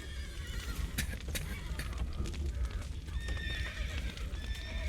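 Horses in the video game The Witcher 3 whinny and neigh while hooves clip-clop, set against a dense, busy game soundscape that stays loud and steady throughout.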